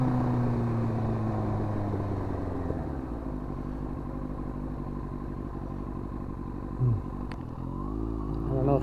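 Yamaha R1 sport motorcycle ridden along back roads, its engine a steady loud drone with a falling pitch sweep early on, wind rush throughout and a brief thump near the end.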